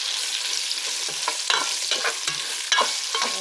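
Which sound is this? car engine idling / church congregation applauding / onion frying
onion frying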